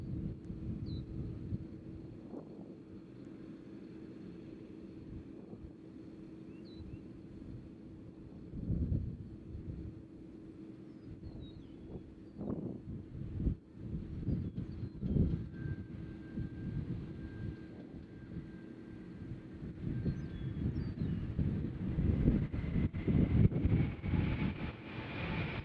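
A JetBlue airliner from Boston moves at Nashville airport, a faint, distant jet engine rumble and whine building slowly and growing louder toward the end, with light wind noise and no talk.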